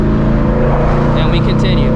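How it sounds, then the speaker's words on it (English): Manual-transmission car downshifting from fifth to fourth gear with a quick 500 RPM throttle blip to rev-match, the engine drone rising briefly under steady road and cabin noise, with a voice talking over it. "500 RPM blip"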